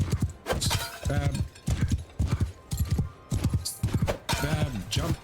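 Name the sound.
horse hooves clip-clopping in Mount and Blade 2 Bannerlord video game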